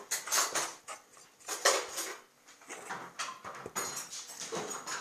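A spoon scrapes and clinks against a bowl while apple pie dough is stirred, with quick irregular knocks and scrapes at close range and no talking.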